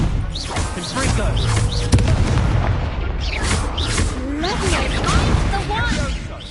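Fiery blast spells go off in Hogwarts Legacy combat, a string of booming impacts and crackling bursts over a dense game soundscape, with voices calling out spells throughout.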